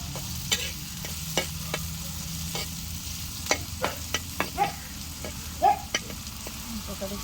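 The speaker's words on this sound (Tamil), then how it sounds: "இது எல்லாத்தையும் நல்லா வதக்கிக்கலாம்." Onions, spices and other ingredients for prawn tawa fry sauté in an outdoor village pan, with a spatula scraping and clinking at irregular intervals over a soft, continuous sizzle.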